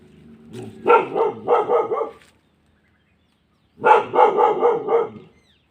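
A dog barks at a strawberry farm in two quick bursts of about four sharp, close barks each, separated by a few seconds of silence.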